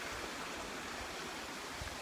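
Cascade Creek on a hiking trail near a campground flows in a steady broadband rush, close and continuous with no one talking.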